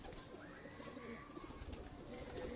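Home-bred pigeons coo softly nearby in low, rolling calls against a faint background hiss, with no talk over them.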